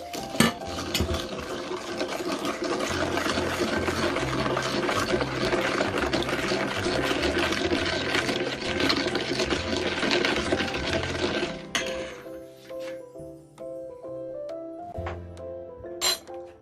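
Four eggs are whisked in a bowl for malunggay pandesal dough, making a fast, continuous clinking and scraping of utensil against bowl up close for about twelve seconds, then slowing to a few scattered taps.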